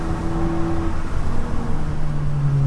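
A Volkswagen Golf 7 GTI Performance is under way, giving a steady, loud engine and exhaust drone with a low rumble and tonal hum that rises slightly in pitch. No one speaks.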